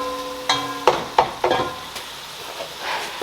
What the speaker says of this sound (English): let's give my ground beef a stir here